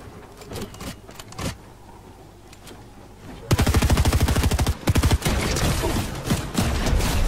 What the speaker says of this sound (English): Now that shotgun's not reaching me.